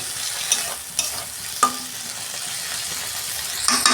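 Potato and kundri (ivy gourd) cook in spices in a pan after a little water is added, giving a soft, even simmering hiss with a few sharp clinks and stirring scrapes, no voices.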